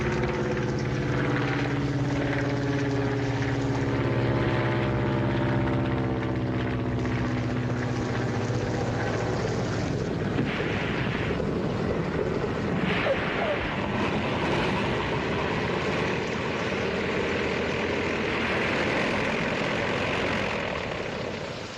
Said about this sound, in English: Mr. White's plane, she's coming.